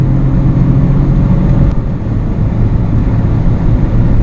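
An Audi A3 1.0 TFSI engine with S tronic gearbox drones loudly and continuously at about 4000 rpm in third gear, a steady close-up hum with no talking.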